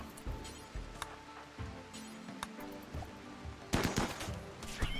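Gunshots crackle in a video game, scattered sharp reports building into a denser burst near the end, moderately loud over background game noise.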